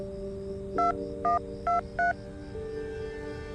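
Four short telephone keypad tones in quick succession over a steady low hum, clear and close.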